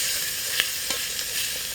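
Onion sizzling in a pan at a wild camping site on a road trip, a steady close hiss of frying with a few faint pops and stirring clicks and no talking.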